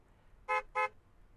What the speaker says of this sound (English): A car honks its horn.